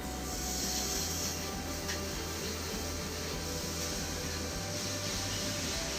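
Water sprays onto a hot Blackstone griddle in a steady, continuous hiss over a low background hum, with no talking.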